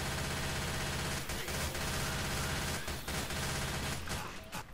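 Gunfire fills a Left 4 Dead 2 zombie co-op match: continuous automatic shooting with bursts and volleys stacked into a dense, loud wall of shots that runs almost the whole time, with brief dips between salvos and no speech.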